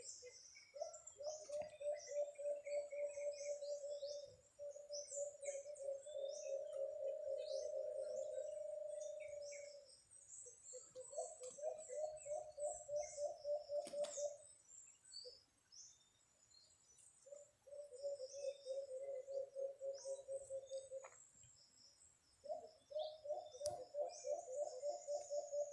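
Wild birds calling back to a hunter's warning call, repeated cooing and chirping phrases in bursts with short gaps, moderately near, over faint insect and background noise.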